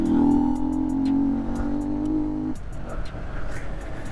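A 2012 Honda CBR 125R Repsol motorcycle engine hums while riding, a steady note that drops away as the rider shifts, then a quieter idle with faint clicks.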